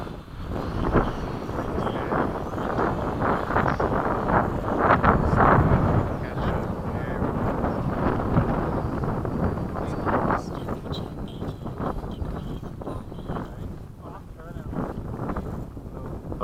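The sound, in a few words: wind blowing during RC jet formation flight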